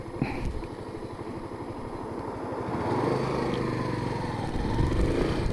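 A 50cc geared motorbike engine runs steadily, a buzzy, rapid putter that idles and then rises slightly in pitch and loudness, heard close and alone.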